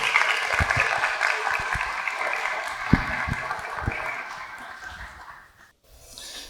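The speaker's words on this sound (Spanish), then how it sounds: "lo recibimos con un fuerte aplauso" Audience applauding in a chapel during an evening talk on Augustinian history in Colombia, a steady dense wash of clapping that holds for several seconds, then fades out near the end.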